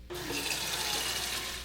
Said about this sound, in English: First, put the kettle on the burner and start filling it with water.